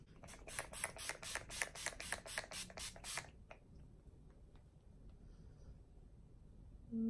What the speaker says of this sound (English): So Urban Decay All Nighter Setting Spray.